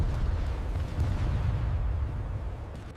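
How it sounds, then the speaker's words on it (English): Heavy, sustained low-frequency rumble of World War II Sherman Firefly 17-pounder tank cannon fire and battle explosions, dense and continuous at close range with no distinct separate blasts. "The Firefly's cannon roared first, an incredibly loud, sharp CRAC of the 17-pounder firing."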